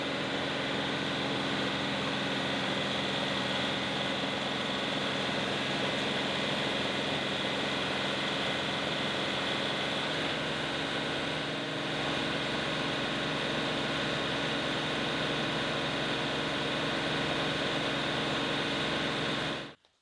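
A tractor engine held at full throttle while the hydraulics lift, a loud, continuous drone with a steady mechanical whine that runs unbroken for about twenty seconds before cutting off abruptly.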